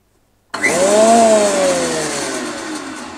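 Einhell TC SP 204 planer thicknesser starting up: a sudden switch-on followed by a loud motor whine rising then settling into a steady, slightly falling hum, close and with no talk.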